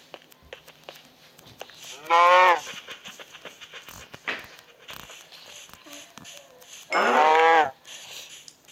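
Two loud cow moos, several seconds apart, stand out over quiet background clicks and faint game sounds in a survival video game.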